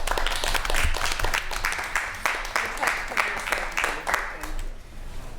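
Attendees at a library trustees meeting applaud for several seconds, a dense, even patter of many hands clapping at moderate level, with a voice murmuring faintly underneath.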